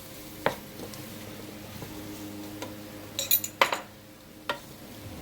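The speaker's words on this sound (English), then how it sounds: "And just stir that in so that all of the beans can get a little jerk seasoning on it" Chickpeas being stirred with jerk seasoning in a pan, heard as quiet scraping and a few sharp clinks of a utensil against the pan over a faint background.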